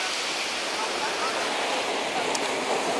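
Sea surf washing onto a beach where crabs are being released, a steady broad wash of waves close by and fairly loud throughout with no clear breaks.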